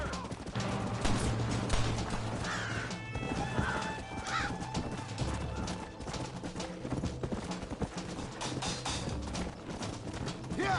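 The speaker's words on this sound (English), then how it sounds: "Get away from them horses!" Horses whinny and hooves clip-clop in a cowboy video game, a loud busy mix with neighing over steady hoofbeats and background game noise.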